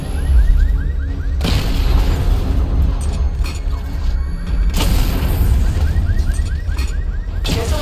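Targets blowing up in the Batman Arkham Knight video game make two heavy booms about three seconds apart, each dying into a loud rumbling roar, with faint repeating electronic chirps beneath.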